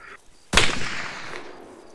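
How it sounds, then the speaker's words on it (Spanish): A single sharp sniper rifle shot, a PGM Hecate II in Arma 3 Insurgency, cracks loudly after a brief quiet moment, then rings out and fades in a long echoing tail. "escucha el disparo. Sigue disparando."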